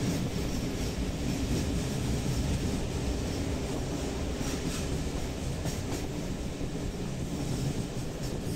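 A train runs on railway tracks near Budapest's Nyugati station during track works, producing a steady, moderately loud rumble with faint rhythmic clickety-clack and no voices.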